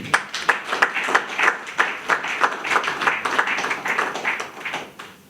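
Rhythmic audience clapping at a Congolese political gathering, sharp fairly loud claps falling in a loose regular beat that blurs into applause and eases off slightly toward the end.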